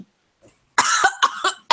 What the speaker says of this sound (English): He just coughs. He choked on air.